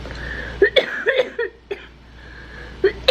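A woman coughs close up in several short, sharp bursts separated by brief pauses.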